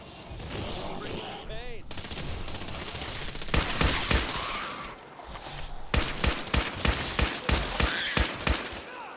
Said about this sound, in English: Look how deadly they are with a Gatling laser, everybody.